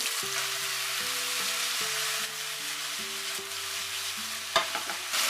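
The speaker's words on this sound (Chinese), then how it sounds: "最后下入年糕条、豆芽炒匀后转小火调味。" Rice cake strips and bean sprouts sizzle and get stirred in a wok, a loud steady frying hiss with scraping toss sounds and a sharper clatter near the end, under background music.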